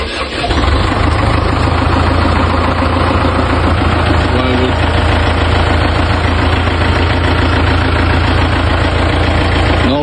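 A tractor engine, just refitted with a new alternator, runs loud and close with a steady, rough, knocking idle that never changes pace.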